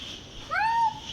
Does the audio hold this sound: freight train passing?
no